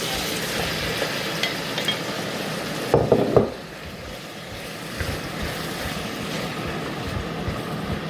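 Squid hitting a hot pan while cooking adobo: a constant sizzling hiss, then a sudden clattering splash of frying as the squid goes in, with the sizzle continuing more softly afterward.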